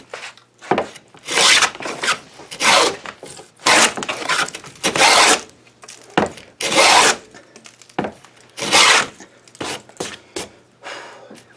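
A replica 18th-century wooden hand plane works a wooden panel in repeated rasping strokes, roughly a dozen close, loud shaving passes of uneven length separated by short pauses.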